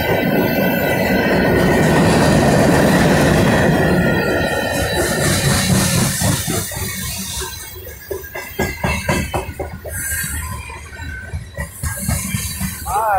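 A long Norfolk Southern freight train with tanker cars passes close by, opening with a loud, heavy rumble that settles into rhythmic wheel clatter with brief metallic squeals.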